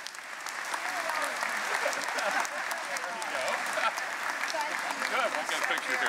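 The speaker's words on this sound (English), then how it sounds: "Let's give them a round of applause." Audience applause fills a recognition ceremony, steady and dense throughout, with a voice speaking briefly over the clapping.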